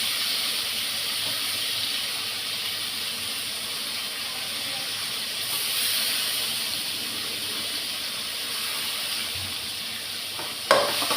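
Tomatoes sautéing with turmeric in a pan for thakkali kulambu, giving a loud, continuous hiss and sizzle with soft stirring throughout and a sharp knock near the end; no talking.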